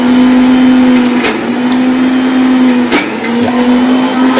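Electric mixer grinder whirring as it grinds soaked moong dal for pesarattu batter, a loud, steady motor drone close by that briefly dips and restarts a few times between bursts.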